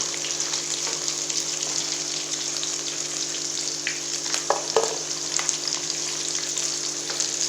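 Fish pieces coated in gram flour batter fry in hot oil as pakora, with a steady, dense sizzle and scattered crackles close by throughout.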